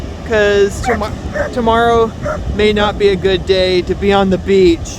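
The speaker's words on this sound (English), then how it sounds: "I apologize for the dog that was barking in the background." A dog on the beach at Fort Stevens State Park in Hammond, Oregon, near the Peter Iredale shipwreck, gives yips and whining barks in the background while someone talks over it.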